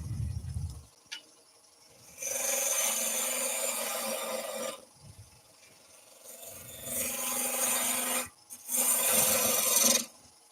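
A small 6mm gouge cuts the flute of a driftwood vase spinning on a lathe, giving three close, sustained rasping scrapes separated by brief quiet gaps.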